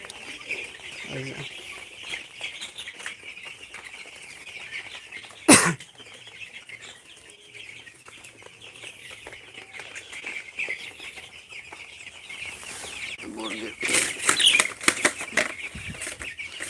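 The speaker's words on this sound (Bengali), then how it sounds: "আজকে আমার খামারে মুরগির বয়স এগারো দিন" Eleven-day-old broiler chicks in a poultry farm shed keep up a steady, dense chorus of high peeping, with a sudden burst of wing flapping midway and a louder flurry of activity near the end.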